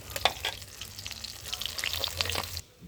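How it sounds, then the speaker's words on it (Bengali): Fish frying in hot oil in a home kitchen, a close, busy sizzle with crackling pops over about three seconds that cuts off abruptly near the end. "তো প্রায় ভাজা হয়ে গেছে মাছটা"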